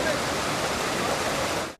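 Floodwater of the overflowing Edlakatta stream, spilling over railway tracks after heavy Telangana rains, roars as a dense, steady rush of water, loud and continuous without pause for a brief moment.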